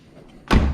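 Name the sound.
car door shutting on R33 Skyline sedan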